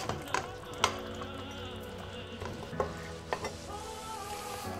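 Tomato is stirred into meat braising in a pot for a sugar bean bredie stew, giving a steady close sizzle broken by a few light knocks and scrapes of the spoon, with no voices.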